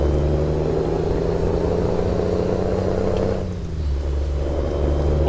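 A heavy truck engine drones steadily in American Truck Simulator, a dense, close rumble with a brief dip and shift partway through, as from an air brake or gear change.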